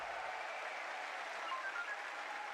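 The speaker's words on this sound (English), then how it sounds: "An eruption from the crowd there" Crowd at a BLAST Austin Major Counter-Strike esports match between FaZe and The MongolZ, a distant, steady roar of cheering and applause from a large arena audience, sustained without a break.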